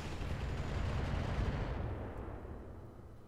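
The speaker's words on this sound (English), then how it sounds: "Comes those missiles." Missile volley fired in the BattleTech mod Roguetech: a dense, roaring burst of launches and rumbling booms that swells, then fades out over a few seconds, with no voices.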